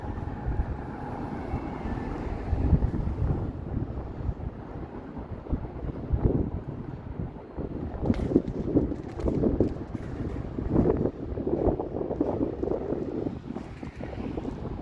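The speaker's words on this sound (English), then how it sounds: "There's a wind, but since it's so warm, it just feels like a warm wind" Warm wind on a Toronto city street, gusting and buffeting the microphone with a rough low rumble that swells and eases irregularly, faint distant traffic beneath.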